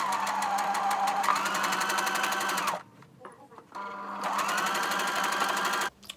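A sewing machine hemming fabric for a sewing machine mat runs in two long, steady bursts of fast mechanical whirring, close and loud, with a short pause and faint handling sounds between them.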